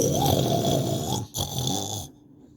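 A storyteller's voice imitates snoring, two drawn-out rasping snores with a short breath gap between them, close and loud, then the sound cuts off.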